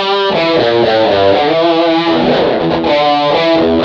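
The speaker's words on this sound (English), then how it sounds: "keeping the chorus and echo effects on for the whole thing, just because I think that's really part of the Rockman sound" Electric guitar runs through a vintage Rockman unit with chorus and echo, giving loud, distorted, shimmering sustained notes and chords that ring out continuously with no talking.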